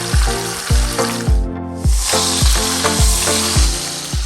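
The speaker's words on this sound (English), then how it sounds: "so let's sear this meat." Beef searing in shimmering hot oil in a pot for barbacoa, a loud, steady close-up sizzle and crackle, while a rhythmic music beat pulses underneath.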